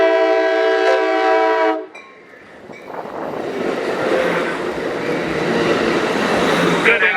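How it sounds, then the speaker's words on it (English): A passenger train heading south to Los Angeles and San Diego sounds one loud sustained horn blast for nearly two seconds, then the rolling rumble and rattle of cars passing close by. "Did a horn blast."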